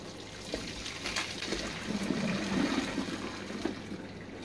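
Hot water drained off freshly cooked noodles while making spicy chicken noodles, a soft steady splashing and trickling pour close by, building toward the middle and then easing off.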